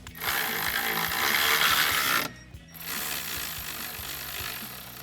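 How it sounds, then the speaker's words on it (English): A 13mm socket ratchet tightens nuts while a RAM 1500 running board is installed, giving a close, fast, steady ratcheting clatter that breaks off briefly, then resumes with another stretch of rapid clicking. No one speaks. "Now we can use a 13mm socket to tighten these up."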